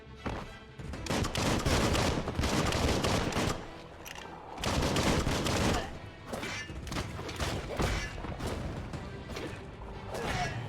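Enemy gunfire and impacts in the action game Biomutant, dense bursts of shots, thuds and crashes in loud surges with brief lulls, and a voice talking over the combat.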